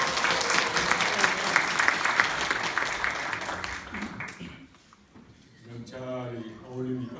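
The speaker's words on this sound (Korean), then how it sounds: "다시 한번 큰 박수 부탁드리겠습니다." Audience applause at a parliamentary member's briefing session, a dense patter that fades out midway before a voice starts talking near the end.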